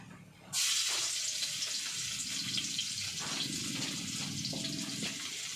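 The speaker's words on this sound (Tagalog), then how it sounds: "Ilagay ko na itong bawang muna." Garlic dropped into hot, already-heated cooking oil bursts into a loud, steady sizzle that carries on without letup, with faint stirring scrapes underneath and no voices.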